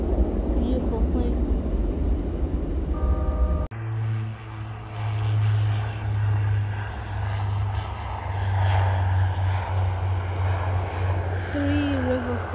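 A steady propeller airplane engine drones loudly throughout, with a low hum shifting partway through, while people talk over it.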